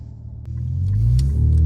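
A 2017 Infiniti Q50 fitted with a Z1 Hotbox tuner pulls away, its engine rumble building steadily from a low idle into a louder, sustained drone heard close up from inside the car.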